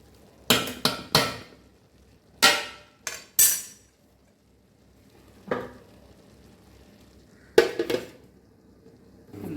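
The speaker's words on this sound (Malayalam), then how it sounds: "ഇത്തിരി പച്ചമുളകും വെളുത്തുള്ളിയും കൂടെ ഞാൻ ചതച്ചങ്ങ് ചേർക്കും" Green chili and garlic crushed for a beetroot thoran, giving irregular clusters of sharp, close knocks and thuds with short quiet gaps between bursts.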